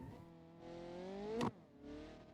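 A damaged video-game race car pulls into the pit lane, its faint engine whine rising briefly. It breaks off sharply as the revs drop, then settles into a lower, steady drone with no voices.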